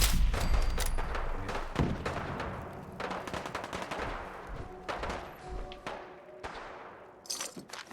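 Bursts of gunfire in the video game Fallout 4, rapid cracking volleys and shots with shattering debris, loud at first then thinning into scattered shots, no talk.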